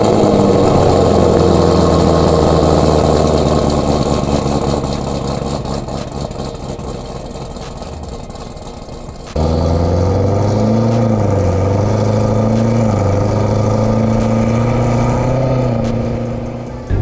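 A 2017+ Chevrolet Camaro ZL1 with Stage 4 modifications idles with a deep, steady drone, briefly cuts out, then fires up again with a sharp catch and settles into a rumbling idle.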